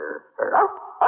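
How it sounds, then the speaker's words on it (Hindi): A dog barks in a few short, close bursts with whimpering yips between them, loud and alone. "अरे भौंक भौंक के पूरे मोहल्ले को उठाएगा,"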